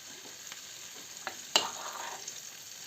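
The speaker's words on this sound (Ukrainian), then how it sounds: "на цю пательню цим боком кладемо, аби отак смажилось" Onion sandwiches frying in a heated pan over low heat, giving a soft steady sizzle with a few brief clicks and one sharper crackle as a piece goes in, no talking.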